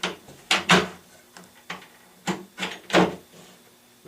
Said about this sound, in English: We slide it right into the clips